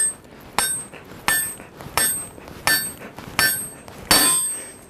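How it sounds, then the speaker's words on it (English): Hammer blows on glowing hot metal at a stove pipe forge ring out sharply, about eight evenly spaced strikes close by, each with a bright metallic ring that decays, and no talk over them. "It has got a workable glow for hammering"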